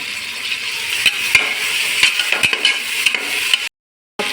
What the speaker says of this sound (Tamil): இது கூட வந்து புதினா தலையும் கொத்தமல்லி தலையும் போட்டுப்போம் தக்காளி பழம் வந்து ஒரு கப்பு